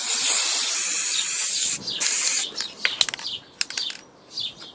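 Spray primer hissing from an aerosol can onto a model, a loud close steady spray burst followed by shorter intermittent sprays and faint rattles.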